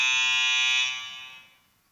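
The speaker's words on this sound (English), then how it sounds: "And now this is the buzzer." A conference timer buzzer sounds a single loud, steady electronic tone for nearly a second, then fades away over the next second in an otherwise quiet hall.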